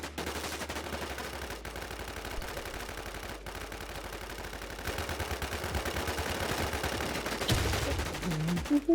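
Rapid bursts of automatic gunfire in the battle-royale game H1Z1, with dense overlapping shots clattering steadily throughout and growing slightly louder toward the end, no voices.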